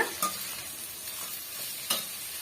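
Chutney ingredients sauté in a hot pan, a steady close sizzle with two sharp scraping stirs of a spoon, no talking.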